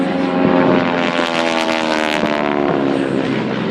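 Propeller display aircraft flying a triple cross loop at a Northern Michigan air show, engines droning loud and close with steady harmonic buzz and pitch shifts as they pass, no talking.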